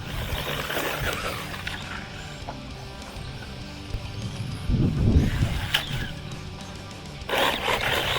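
WLtoys 124010 1/12-scale RC basher buggy on a larger LiPo battery tearing across dirt and wood chips, its motor whining and tyres scrabbling in uneven bursts, with a louder rough surge near the end.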